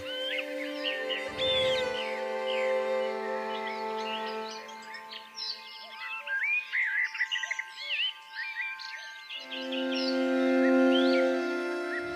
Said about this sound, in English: Did you hear that? It's brambling.